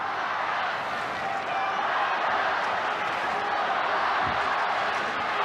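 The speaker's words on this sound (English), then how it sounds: "The crowd again just chanting the Broncos." Stadium crowd at a 1988 Brisbane Broncos versus Parramatta rugby league match, a broad continuous roar of distant chanting and noise filling the whole stretch, with a commentator's voice faintly mixed in.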